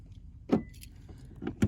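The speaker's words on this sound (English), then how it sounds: "if I lock the car" A 2020 Subaru Outback locks by key fob, giving a few short close clicks and clunks with faint key jangling, quiet and without talk.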